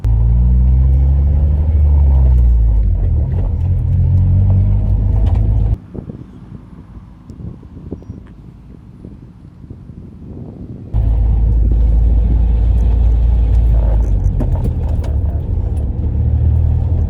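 An Acura TSX with a manual gearbox pulls in second gear, giving a loud, steady engine rumble that dips and eases for several seconds partway through before the strong drone returns.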